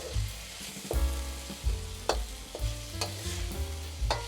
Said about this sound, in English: Add the green parts of the onions,